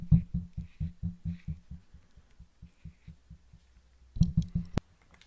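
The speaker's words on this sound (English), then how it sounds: "You can actually hear it clicking into place." The airflow ring on a GeekVape Zeus Dual RTA rattles through a quick run of small, close ratcheting clicks, slowing and fading, then a short louder flurry and a final sharp snap.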